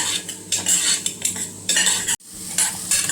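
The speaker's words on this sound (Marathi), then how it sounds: "तर आपण आता हा रवा व्यवस्थित मंद गॅसवर भाजून घ्यायचा" Semolina (rava) being dry-roasted in a pan over a low flame, with a spoon scraping and clinking against the metal in a steady, continuous stirring rhythm that is close and fairly loud, with no talk.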